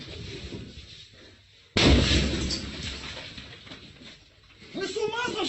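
A grenade detonating after its pin is pulled: a sudden loud, close blast with a rumbling decay that fades over a few seconds, followed by agitated voices.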